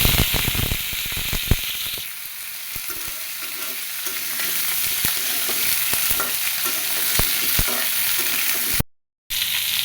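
Pieces of pointed gourd and pumpkin tipped into a frying pan of hot oil with green chillies for a vegetarian curry, giving a loud, steady sizzle with sharp clacks of stirring early on and a brief cut near the end.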